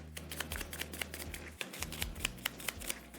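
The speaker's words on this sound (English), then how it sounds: "I'm gonna shuffle their deck." A deck of cards from the Clans of Caledonia board game, the solo Automa deck, is shuffled close up with a quick run of crisp, papery riffles and flicks, and no talking.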